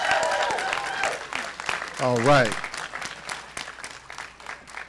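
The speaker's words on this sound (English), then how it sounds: "So please give another clap for our graduates of Scioto." Audience applause fills a graduation ceremony for Scioto graduates, a steady crowd clapping throughout with cheers mixed in; a voice speaks briefly over it.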